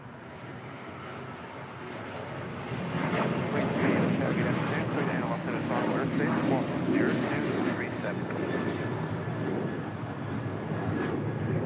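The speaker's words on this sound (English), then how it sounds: "That is Alaska Airlines 1352 departing to San Jose, Costa Rica on a 737-800." Alaska Airlines Boeing 737-800 departing LAX, a broad rising jet roar that swells after a couple of seconds and holds steady and loud, with wind rumble and voices talking over it.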